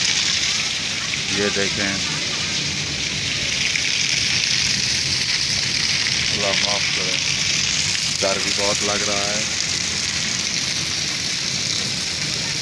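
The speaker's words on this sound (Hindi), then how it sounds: "ये बहुत ख़तरनाक बारिश है, तूफ़ानी बारिश है।" Heavy stormy rain lashes a village in a dense, continuous roar of water and wind, with someone speaking briefly over the downpour.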